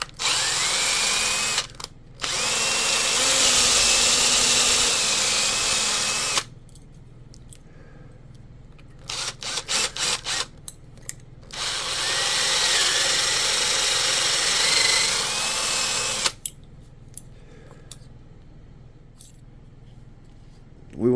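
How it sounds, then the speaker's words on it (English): A handheld power drill with a bit bores a hole for the rudder of a Proboat Blackjack 24 RC boat, running in two long, loud whining bursts and several short stop-start pulses with quiet gaps between. "Not using a drill press, I'm just using my drill bit, nothing special."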